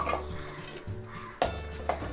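Urad dal roasting in a kadai, with dry scraping and stirring clatter against the metal pan, a few sharper clinks standing out, fairly quiet and close with no voices.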